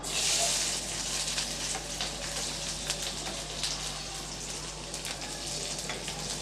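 Chopped garlic cloves sizzling in hot oil with mustard seeds in a pan, a steady, fairly quiet crackling hiss with tiny pops and spatters, heard alone without any talking.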